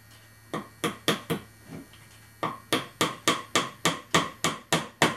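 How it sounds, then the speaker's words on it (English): A small hammer taps on wood while planking a model ship, the Golden Hind: a few spaced strikes at first, then a steady run of about ten crisp, evenly timed knocks. "Lovely little hammer."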